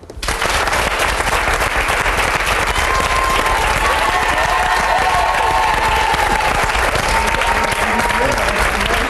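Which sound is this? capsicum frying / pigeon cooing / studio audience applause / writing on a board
studio audience applause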